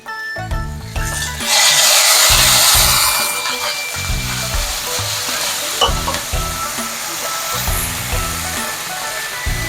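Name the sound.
shrimp and broccoli stir-frying in garlic sauce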